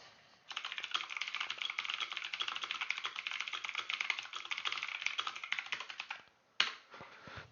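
Someone types on a computer keyboard in a rapid, continuous stream of close, crisp key clicks. The clicking pauses briefly near the end, then picks up again.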